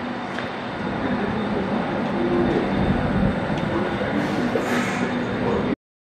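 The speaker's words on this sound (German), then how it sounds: "Und jetzt geht rein in die U-Bahn, also in den DLA." A London DLR train rolls along with a loud, continuous rumble and rattle heard from inside the carriage, with a faint squeal near the end before the sound cuts off abruptly.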